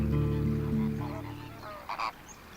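Flamingos call in the Ebro Delta wetlands: loud, nasal, goose-like honks up close at first, followed by a few shorter, fainter calls.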